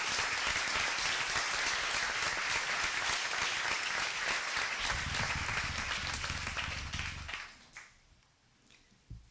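An audience applauds at a UN panel event on child soldiers. Dense, loud clapping fills the room for about seven seconds, then fades to scattered claps and near quiet.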